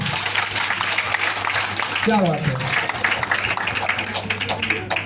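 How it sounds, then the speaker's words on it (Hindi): Loud, dense clapping from a large crowd at a public gathering, a sustained wash of applause lasting throughout, with a voice speaking briefly over it. "तो जिनको जिनको चाहिए जोरदार ताली मारो।"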